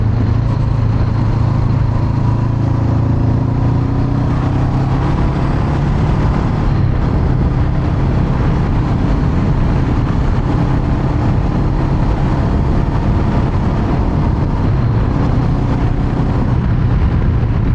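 A 2021 Honda CB500X motorcycle rides along a road, its engine droning steadily under loud, continuous wind rush with no pauses and no voices.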